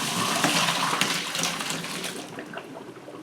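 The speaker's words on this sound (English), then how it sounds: "Once your potatoes have simmered for 20 minutes on medium-low, drain them." Water from a pot of simmered potatoes pours steadily into a sink as they are drained, a continuous close splashing rush that eases slightly toward the end.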